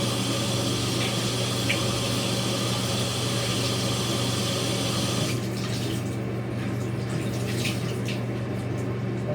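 Water pours continuously while dye is rinsed out of faux fur, a loud steady rush that becomes lighter and thinner partway through.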